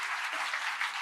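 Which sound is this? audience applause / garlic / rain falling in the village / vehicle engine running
audience applause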